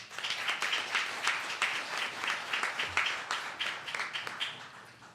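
An audience claps steadily at a governor's briefing on a passed Clean Slate law, a sustained round of applause of moderate loudness heard from within the room, with no speech over it.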